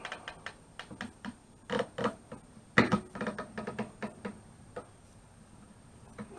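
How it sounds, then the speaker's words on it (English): Metal clamp being cranked tight on aluminum stock for a sewing-machine extension table: a run of close, dry mechanical ticks and clicks, a louder cluster of sharp snaps midway, with no talking. "Get a clamp on it."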